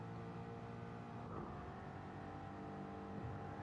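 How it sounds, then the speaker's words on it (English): Ford Mustang Gr4 race car engine in a racing game at Laguna Seca, a faint continuous droning roar with slight rises in revs, heard distantly and alone without talk. "I'm not sure how well you can hear the engine noise, but that Mustang sounds absolutely epic."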